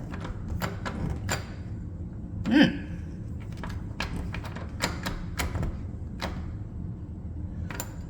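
Someone tries to open a locked door, making a series of close clicks and rattles with one louder thump partway through.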